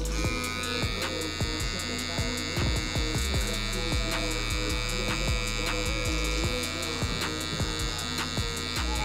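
Electric hair clippers cutting a high taper fade with the half guard lever open, a steady close buzzing hum with rhythmic strokes as the blade passes through hair, no speech.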